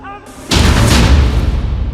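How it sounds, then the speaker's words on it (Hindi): A sudden loud explosion bursts in after a quiet moment in the Gaza war, followed by a sustained, rumbling roar that stays heavy and close until the end. "डबल धमाका, डबल हमला, हमास का खुफिया युद्ध।"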